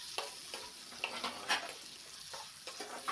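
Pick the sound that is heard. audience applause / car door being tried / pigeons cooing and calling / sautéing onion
sautéing onion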